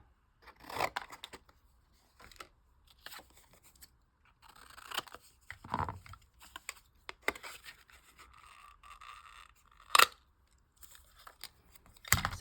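Scissors snip through paper in a series of short crisp cuts with brief pauses between them while a paper figure is trimmed out for a junk journal craft. The clearest snaps come near the end.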